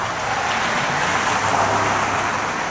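Cars passing on a city street near a Family Dollar store, a continuous moderate traffic roar with a low engine hum, steady throughout and without speech.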